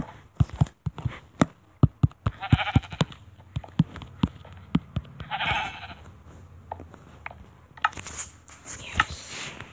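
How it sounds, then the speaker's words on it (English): Sheep bleat in the Minecraft video game, short nasal calls mixed with a rapid run of sharp tapping clicks like blocky footsteps or placement sounds, fairly close and uneven. "Sheep, yes."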